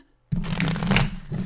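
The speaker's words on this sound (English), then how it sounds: "that's a good shuffle there" Tarot cards shuffled by hand up close: a quick riffling flutter starting abruptly after a short silence and continuing for about a second.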